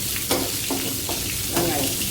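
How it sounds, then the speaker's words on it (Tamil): Cumin seeds frying in hot oil for okra sambar, a dense close crackling sizzle with a few sharp spatula taps on the pan. "இது வதங்கின சீரகம்"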